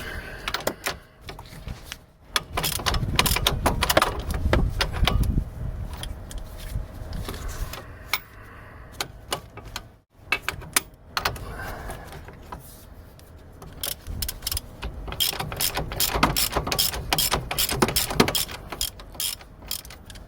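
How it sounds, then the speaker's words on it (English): Ratchet wrench clicking while loosening and tightening a sway bar link on a 2008 Saturn Astra, in bursts of rapid metallic ratcheting with brief pauses and clanks, close and fairly loud. "Well, stick with the ratchet."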